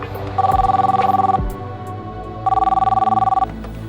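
A telephone rings in two electronic bursts separated by a brief pause, clear and fairly loud, with faint background sounds.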